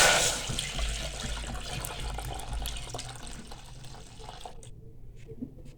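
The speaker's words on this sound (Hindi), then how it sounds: "इसमें हम 1 लीटर दूध शामिल करेंगे।" One litre of milk poured into a pan on the stove, a close, continuous liquid splashing and gurgling stream that tapers off near the end into quiet.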